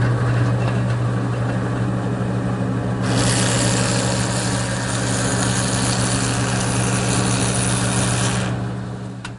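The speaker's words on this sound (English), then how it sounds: "So to do that, I've set up my joiner, and I've tilted the fence to 15 degrees" Woodworking jointer running steadily with its fence tilted to 15 degrees, a loud continuous motor hum joined by a brighter cutting whir for several seconds as wood pieces are fed through, no talking.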